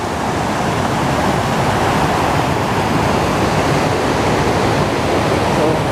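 Ocqueoc Falls, a public swimming waterfall in Millersburg, Michigan, roars as a loud, steady wash of rushing water that fills the whole stretch without a break, and no one talks over it.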